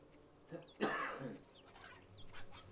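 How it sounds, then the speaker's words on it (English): A single rough cough from chest congestion close by, brief and throaty, over faint background sounds. "excuse me coughing. I'm still kind of fighting a little bit of chest congestion."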